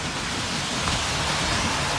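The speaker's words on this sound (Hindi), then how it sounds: "ये देखिए बारिश जो है वो रुकने का नाम नहीं ले रही।" Steady rain falls at night near Vancouver airport, a continuous dense hiss with no breaks or distinct drops.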